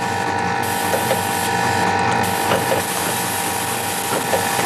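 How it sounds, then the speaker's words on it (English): Inside a thermal fuse assembly machine, a pusher feeds a fixture along a belt with steady mechanical whirring and repeated ratcheting clicks, loud and close with no talk. "When the belt is in the right position, the pusher will feed in the top fixture."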